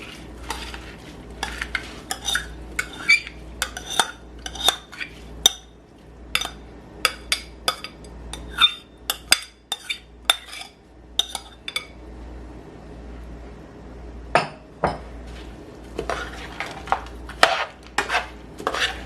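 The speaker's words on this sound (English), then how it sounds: "And now I'm gonna add my rice." Rice going into a pot of callaloo spinach with salted pigtails: sharp metallic scrapes and clinks of a spoon against the pot repeat unevenly over a quiet simmering background, close and fairly loud, with a short lull midway and no speech.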